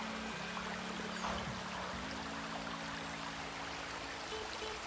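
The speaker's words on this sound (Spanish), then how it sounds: "Es todo el agua que sale aquí, buena abundancia de agua." Water pours steadily from a spring on a cattle ranch, a continuous close rushing gurgle with a low steady hum running beneath it and no voices.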